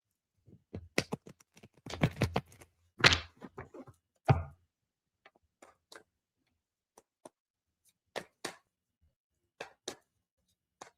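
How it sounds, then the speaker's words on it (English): Tarot cards shuffled by hand, a quick burst of crisp riffling clicks and slaps followed by sparse, isolated taps and flicks, close and fairly quiet. "Oh, that was a sucky shuffle. Let me shuffle again."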